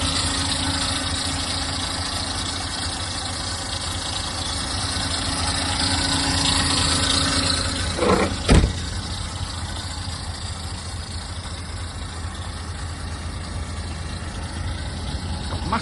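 A 2019 Irizar i6 Integral coach idles with a steady, loud diesel rumble and hum, close by and unbroken, with a brief knock or clunk partway through and no talk.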